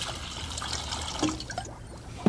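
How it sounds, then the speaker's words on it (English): Vinegar poured into a pitcher for a homemade science demonstration makes a soft, steady liquid trickle and splash, close and gentle, ending with a small clink. "Pour some vinegar into a pitcher."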